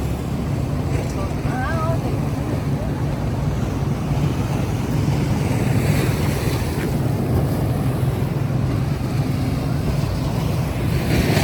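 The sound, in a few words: stormy sea waves and wind at the shore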